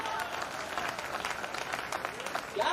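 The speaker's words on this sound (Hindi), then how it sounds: "तालियों का विस्फोट होता है" Audience at a Hindi kavi sammelan poetry recital on Ram and Ravan bursts into dense, steady applause, many hands clapping together at moderate distance, with a few voices mixed in and a fresh swell at the end.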